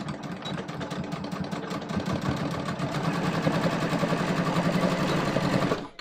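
Sewing machine stitching a denim jeans waistband, a steady rapid mechanical whir running continuously and fairly loud for about six seconds before stopping abruptly.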